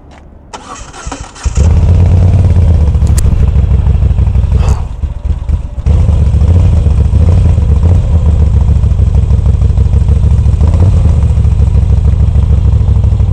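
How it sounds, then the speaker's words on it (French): A Moto Guzzi motorcycle engine cranks briefly, then catches and roars into a loud, close, steady idle with a rough mechanical clatter that dips once before running on strongly. "Qu'est-ce que ça fait plaisir d'écouter à nouveau le moteur de ma Gudzi."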